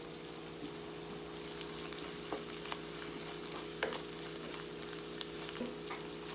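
Ginger garlic paste fries with softened onions in a pan for a chicken curry, giving a steady, fairly quiet sizzle with scattered small pops and crackles and no talking.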